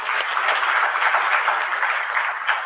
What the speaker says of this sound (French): Je pense qu'on peut l'applaudir pour cela.